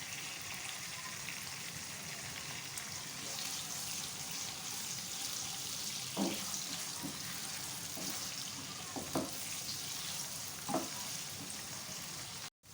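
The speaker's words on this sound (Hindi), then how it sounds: "प्याज को थोड़ा सा सौते करें।" Steady sizzling of onions sautéing in a pan, with a few light clinks and stirring scrapes breaking through the continuous hiss.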